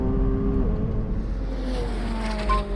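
A McLaren 720S Spider accelerates hard from a standstill, its engine note climbing steeply through rising pitch shifts in a loud, continuous roar close by.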